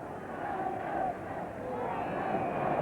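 A vast football crowd of nearly 60,000 at the 1969 Fairs Cup Final first leg between Newcastle United and Ujpest Dozsa keeps up a steady, rolling roar and chant, a dense distant wall of voices with no break.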